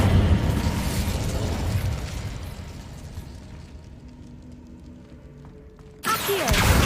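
An Incendio fire spell goes off in Hogwarts Legacy as a loud burst that rumbles and fades over several seconds, followed by a sharp new blast at the end.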